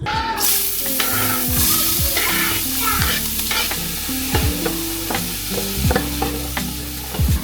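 Onions for sambusa filling cooking down in a pan, a continuous sizzle broken by rapid utensil scrapes and clinks against the pan as it is stirred, close and fairly loud.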